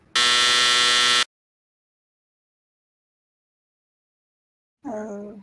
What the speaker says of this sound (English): I'd be over here pushing that buzzer button I was constantly.